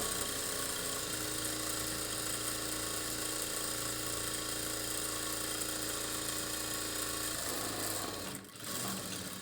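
A sewing machine stitching a churidar bottom runs in a steady, continuous whir for most of the stretch, close and even, then briefly dips and stops near the end.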